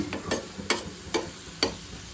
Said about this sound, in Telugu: ఇప్పుడు ఈ పుదీనాను అల్లం వెల్లుల్లి కాబట్టి స్పీడ్గానే ఫ్రై అయిపోయింది